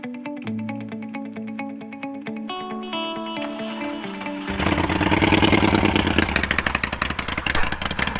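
Motorcycle fitted with aftermarket exhaust pipes at a riders' meetup: music-like harmonic tones first, then from about four seconds a loud, dense, rumbling engine roar that swells and continues to the end.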